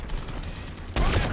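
Gunfire in a Mass Effect Legendary Edition battle against Reaper forces: a steady rumbling wash of shots, then a sudden louder, denser burst near the end, close and with no talk over it.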